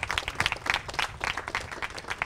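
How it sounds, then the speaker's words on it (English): A live audience claps for an architect at a community meeting, a short burst of dense, moderately loud applause with many overlapping hand claps. "can we give him one more hand clap for nailing this building?"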